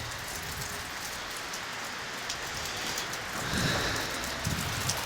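Steady rain patters on surfaces close by at Cheynes Beach in southern Western Australia, a dense hiss with scattered droplet taps and no voices.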